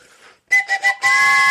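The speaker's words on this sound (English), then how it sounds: "All right, Mike, give us the whistle right. One more train whistle." A loud, shrill whistle sounds in three short blasts followed by a longer sustained one, after a brief faint noise.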